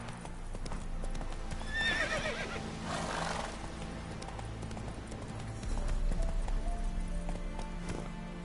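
Roach, a horse in a PS4 video game, gallops with a fast, continuous clip-clop of hoofbeats and lets out a loud whinny early on. The hooves keep drumming steadily to the end.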